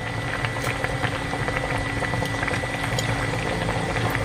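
Coconut milk curry with fern shoots bubbles steadily in a pot, a dense continuous simmering and popping up close, with no talking.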